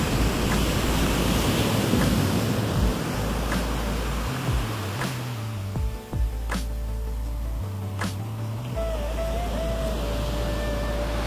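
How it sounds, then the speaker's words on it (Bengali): Sea waves at Bagda beach, a steady broad roar of surf in the distance with wind noise, beside a casuarina grove where occasional faint bird calls cut through. "ওদিকে সমুদ্রে গর্জন শোনা যাচ্ছে।"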